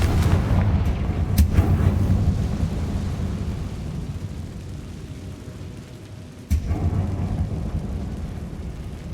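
Booming Confringo spell explosions from Hogwarts Legacy roll out like thunder, a heavy rumbling blast early on and another sudden crack partway through, loud and near with no voices.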